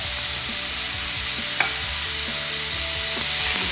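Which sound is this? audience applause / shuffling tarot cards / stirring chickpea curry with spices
stirring chickpea curry with spices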